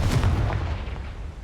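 Confringo fire spell blasts in a Harry Potter video game: a dense, loud burst of booming, crackling impacts filling the whole moment, with heavy low rumble and no voices.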